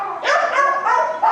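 A small dog, roughly three years old and waiting in an animal shelter, gives several quick, high yipping barks close by, one running into the next.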